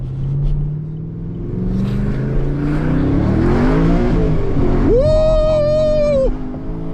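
A cammed fifth-generation Chevrolet Camaro Z/28 V8 roars through a hard pull, its pitch climbing steadily before holding at a loud, high-revving wail, heard up close from inside the car.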